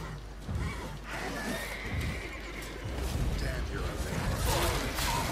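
A horse in The Witcher 3 neighs loudly with a drawn-out whinny, over hoofbeats and game noise, while players talk excitedly throughout.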